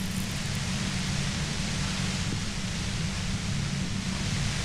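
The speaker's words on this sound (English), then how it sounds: "The violet-white noise becomes even more overwhelming closer to the compressor." Dense, steady broadband hiss with a heavy low rumble near the compressor in Disco Elysium, continuous and loud throughout, with no voices.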